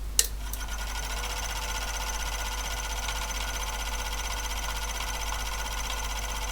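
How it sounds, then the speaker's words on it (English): An HP9120 printer mechanism powering up and running at speed, giving a steady, gentle mechanical whir with faint ticks, continuous and alone at low level. "so nice gentle whirring sound"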